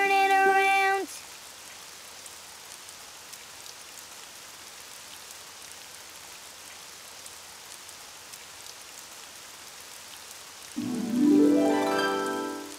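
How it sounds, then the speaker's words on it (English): Steady rain patters softly and continuously, with brief tonal game-like chimes at the start and end. "it's raining outside"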